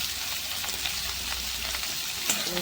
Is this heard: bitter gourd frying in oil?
yes